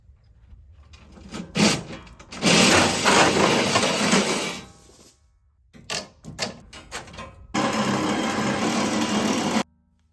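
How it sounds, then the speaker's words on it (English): Welding on a broken part at a farm damaged by a tornado: two sustained crackling, hissing runs of about two seconds each, separated by quieter clatter and short bumps. "My son is learning to weld."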